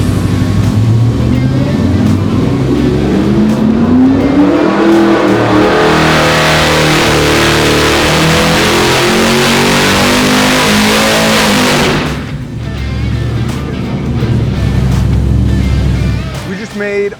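A HEMI V8 on an engine dyno revs hard through a loud, sustained full-throttle pull that climbs in pitch and then cuts off sharply, after which a lower idle-like rumble continues.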